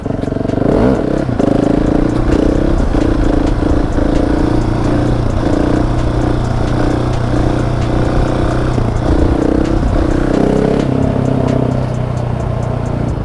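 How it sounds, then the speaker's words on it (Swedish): A motocross bike revs loudly and continuously on a street in Husby, its engine rising and falling with rattling clatter as the rider pulls a wheelie, close and dominant throughout. "Så låt oss testa hur det känns att bakhjula i Husby precis som i musikvideoserna"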